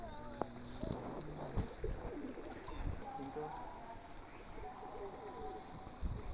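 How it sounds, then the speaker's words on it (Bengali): Pigeons coo softly in a garden at a crocodile farm, low murmuring calls repeating under outdoor ambience, with a person talking nearby. "কি সুন্দর কবুতর,"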